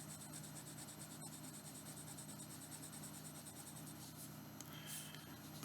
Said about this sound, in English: I'll let you listen to the nib on the paper.